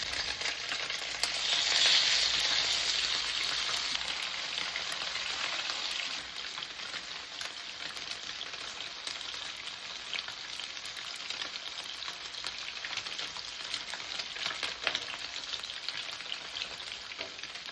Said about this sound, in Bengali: সর্ষের তেল দিয়ে দিচ্ছি ভেটকি মাছে নুন হলুদ মাখিয়ে দিয়েছি একটা একটা করে মাছগুলো ভেজে নেবো